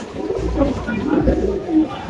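A magpie pigeon at a pigeon market gives low, throaty coos several times in a row, close and fairly loud, with some voices in the background.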